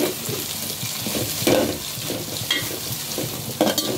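Garlic sautéing in a pan for an anchovy fish curry, a continuous close sizzle broken by scraping stir strokes and occasional louder clatters of the spoon against the pan.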